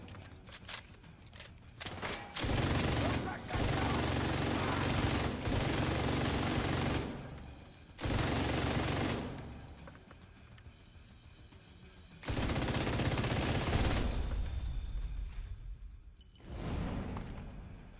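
Bursts of rapid automatic gunfire in a shooter game come in several long, loud volleys lasting a few seconds each, separated by short quieter gaps.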